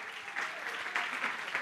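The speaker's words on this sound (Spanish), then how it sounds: "no aplauda porque ahora van a pensar que estoy terminando si aplaude" Congregation clapping in a church service, a dense burst of applause from many people that holds steady and swells slightly toward the end.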